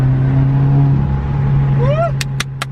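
A Subaru WRX engine with an Invidia N1 Race Version exhaust drones low and steady from inside the cabin, with a rising whistle-like turbo whoosh near the end followed by a few sharp clicks.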